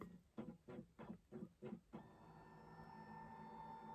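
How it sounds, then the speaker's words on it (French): A home printer shuttles in six quick, rhythmic mechanical bursts, then settles into a steady, quiet whirring hum as it goes into standby. "C'est mon imprimante qui se met en veille, hein, désolée."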